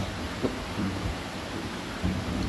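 Rain falls steadily with rumbles of thunder, a faint, soft hiss punctuated by a couple of low, brief swells.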